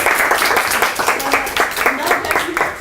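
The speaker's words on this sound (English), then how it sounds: "Oh, okay, applause." Audience at an academic talk on city space applauding, a dense burst of clapping mixed with voices throughout, moderately loud and close.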